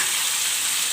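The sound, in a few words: frying garlic, tomato and onion for chutney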